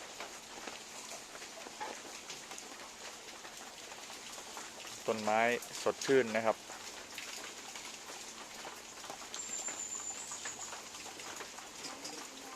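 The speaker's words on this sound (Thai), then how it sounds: "ดูบรรยากาศฝนตกครับ" Rain patters softly and steadily in the background while someone speaks briefly in the middle, the downpour continuing faint and even throughout.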